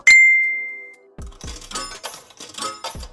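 A phone notification chime like a casino payout: one bright ringing tone that slowly decays, then a rapid run of clinking, coin-like jingles, loud and close.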